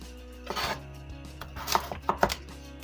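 A knife chops on a cutting board in a few irregular sharp knocks, close by and otherwise quiet.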